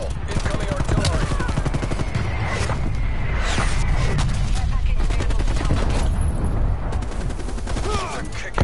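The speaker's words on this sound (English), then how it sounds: "Incoming artillery." Incoming artillery in a military shooter video game, a dense barrage of rapid loud blasts and gunfire cracks rolling continuously at close range, with voices calling out over the din.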